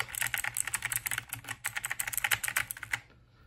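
Rapid typing on a Logitech G513 Carbon keyboard with clicky GX Blue switches: a dense, steady run of sharp key clicks, close and moderately loud. It stops abruptly near the end. No voices are present.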